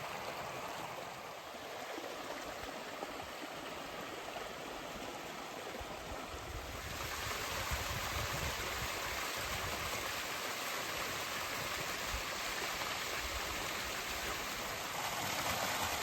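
A small stream in Cooney Canyon, New Mexico, rushes and splashes over rock formations and little waterfalls, a steady broadband babble of falling water that grows a little louder partway through.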